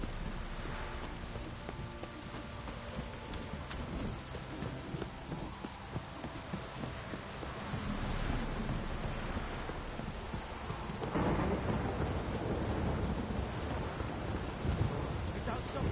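Rain falls steadily in The Witcher 3: Wild Hunt, a dense continuous patter with low thunder rumbles swelling midway and again later, muffled hoof-like clopping scattered through, no speech.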